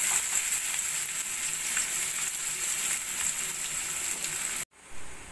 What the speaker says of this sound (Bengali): পেঁয়াজে এইভাবে আমি নাড়া দিয়ে একদম সোনালি করে একটু ভেজে নেব।